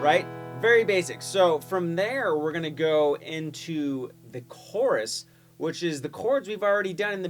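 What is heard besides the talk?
No distinct noise like a dog, phone or traffic.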